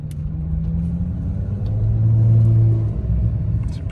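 A car in manual mode, first gear, rolls away with a low, steady engine rumble that swells slightly in the middle, heard close and alone without talk.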